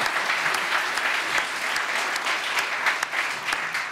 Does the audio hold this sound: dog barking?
no